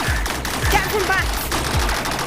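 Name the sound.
gunfire in the video game Rec Room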